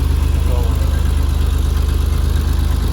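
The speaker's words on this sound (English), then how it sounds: "Cold start, the 964. Does sound cool, but it's pretty airy." An air-cooled Porsche 964 flat-six runs after a cold start with an upgraded exhaust, giving a loud, steady, airy idle with an even low pulse that lasts the whole stretch.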